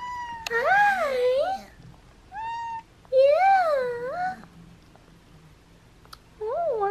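A female cat meows close up in several drawn-out, wavering calls with short pauses between them, a final meow near the end, and soft background noise.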